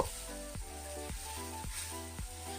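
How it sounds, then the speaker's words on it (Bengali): Onion frying with a ginger, garlic and green chili paste, heard as a faint, steady sizzle under a low hum, with a few soft knocks at regular intervals. "পেঁয়াজটাকে হালকা মতো করে একটু ভেজে নিয়ে এবার এর মধ্যে দিয়ে দেব হলো বাটা মশলা আদা রসুন কাঁচা লঙ্কা বাটা"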